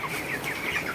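Twenty-one-day-old poultry chickens on a farm cluck in quick, overlapping chatter close by, a brief busy burst of flock sounds with no talking.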